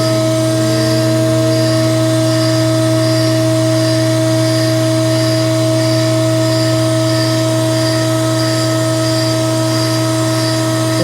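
A tube bending machine with its pressure die set bends a metal tube, giving a loud, steady motor hum with sustained tones that hardly change throughout, and no voices.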